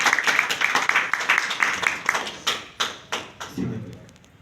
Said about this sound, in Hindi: तो परमेश्वर का धन्यवाद करेंगे ताली बजा के उसको